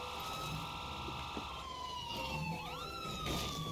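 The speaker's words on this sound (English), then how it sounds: "Lights and sirens." A vehicle siren from the video game State of Decay 2 wails in sustained tones that shift and sweep down, steady and moderately loud over faint background game noise.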